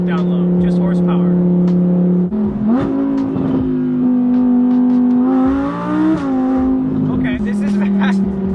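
A 2017 Audi R8 V10 Plus engine drones and rises loudly from inside the car, climbing through revs with a shift dip midway, while people talk over it.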